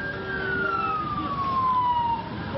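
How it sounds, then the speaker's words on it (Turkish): Emergency vehicle siren wailing along the flooded Ankara–Sincan road, one continuous descending tone heard at moderate distance over steady road and traffic noise. "Bir diğer taraftan da siren seslerini görüyorsunuz hemen."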